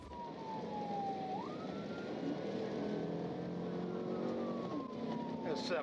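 Police car siren wails during a high-speed pursuit, a rising and falling tone over loud road and engine rumble, with a voice talking over it.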